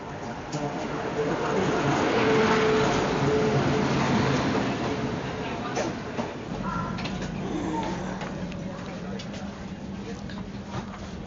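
The Shatabdi Express, train 12041, pulls out of Bolpur station, heard from inside a coach as a loud, steady rolling rumble with faint rhythmic rattles, with voices murmuring nearby.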